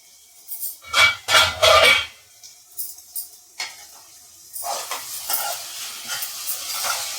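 Potato pieces cooking in a pan for a potato and yellow cucumber curry: a few loud scraping stirs in the first two seconds, then a softer, steady sizzle with light clinks, no voices.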